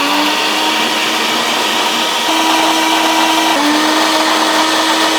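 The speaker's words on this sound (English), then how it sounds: "Let's turn the blender on" A blender whirs steadily through oats, whey protein, blueberries and banana, a loud continuous high-pitched motor whine with a faint change in pitch midway, and no talking.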